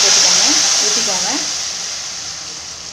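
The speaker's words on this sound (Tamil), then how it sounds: "புளி கரைச்சி வச்சுருக்கோங்க, அதை போட்டுக்கோங்க, ஊற்றிக்கோங்க." Tamarind water poured into a hot pan for pulicha keerai thuvaiyal, giving a loud steady sizzle and steamy hiss that fades slightly over three seconds, with faint background voices.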